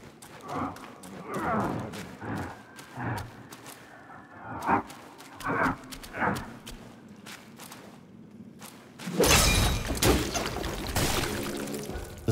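A horse in Black Myth Wukong, heard as a run of hoof-like clops and thuds with brief pauses between, followed by a louder rushing, pouring wash near the end.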